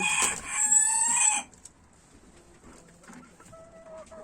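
An American rooster crows loudly up close in a chicken coop, followed by softer clucking and chicken sounds in the background.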